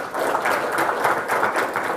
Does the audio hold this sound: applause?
yes